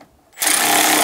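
Fan shroud bolts are run tight on a 2000-2006 Toyota Tundra 4.7L V8 during timing belt and water pump work, a sudden buzzing power tool whir kicking in after a brief quiet moment and holding steady and loud.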